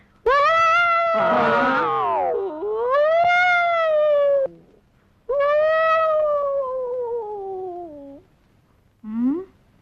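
A man in a Tamil comedy film scene imitates a dog with his voice, letting out several long, wavering, close howls in three main bursts with short pauses between them and a brief yelp at the end.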